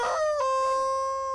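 A rooster crows once, loud and close, with a bright rising then sustained call.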